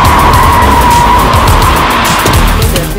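A Toyota Land Cruiser and a Jeep Wrangler race, tires skidding and squealing loudly and steadily under a roaring engine, close and continuous throughout.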